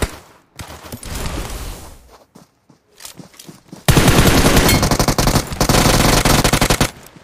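Gunfire in the PUBG battle royale video game: sporadic single shots and short bursts at first, then a loud, dense stretch of sustained automatic machine-gun fire over the second half.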